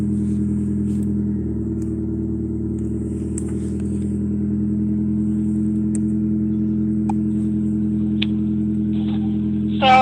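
Inside a car driving through a canyon near Estes Park, a steady low engine and road rumble drones without break, with only faint occasional clicks and no one talking.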